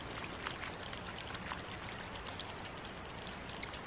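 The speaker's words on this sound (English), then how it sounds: "I'm gonna go ahead and get this primed while our bucket is filling back up" Water from a ram pump pouring steadily into a bucket, a close continuous splashing trickle with no pauses.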